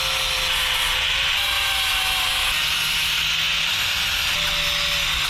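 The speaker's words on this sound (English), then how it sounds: "I'm just gonna get a flap disc and start grinding away and making sure everything else here fits" Flap disc grinding steel axle and frame mounts on an 80 Series Land Cruiser during a panhard correction, a steady loud abrasive roar with the disc's whine running the whole time.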